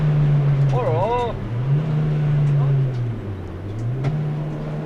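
A car braking and driving on a track day at Folembray circuit, a steady engine drone with pitch dipping and rising as it slows and pulls away, with people talking over it.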